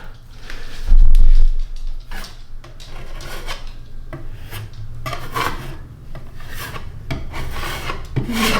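A big putty knife spreading and scraping filler across cabinet doors, giving repeated close rasping strokes at an uneven rhythm, with one heavier knock near the start and no talking.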